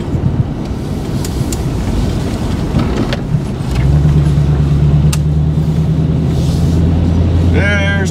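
A Chevrolet Blazer truck drives along with steady engine and road rumble, wind buffeting the microphone, and a low engine drone rising partway through; a person talks over it.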